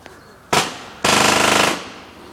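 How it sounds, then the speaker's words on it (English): Paintball guns firing during an outdoor paintball match: one sharp pop followed by a rapid rattling burst of about a dozen shots, fairly close and loud, with no talking. "That's the sound of the guns."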